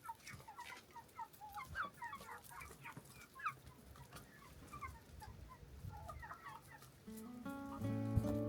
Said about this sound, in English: we went together to feed those chickens